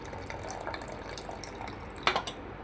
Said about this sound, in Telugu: ఉడికిపోయిన తర్వాత చింతపండు రసం వేసేసుకుంటున్నానండి